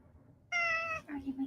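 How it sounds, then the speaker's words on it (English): A pet cat gives one clear, close meow, followed by a softer, lower trailing sound. "Are you my kitty?"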